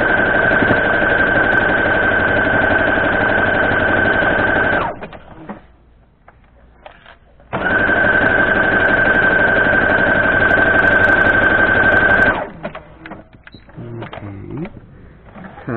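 A sewing machine stitches a 12-inch log cabin quilt block in two long, steady whirring runs, a close, even mechanical hum that stops briefly between them and gives way to quieter handling noises at the end.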